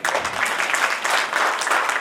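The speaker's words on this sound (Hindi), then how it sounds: "तो सभागार से ऐसी तालियां तो बजे जो उनके लिए लगे" An auditorium audience at a poetry gathering claps steadily for a woman poet, dense and continuous applause filling the room without a break.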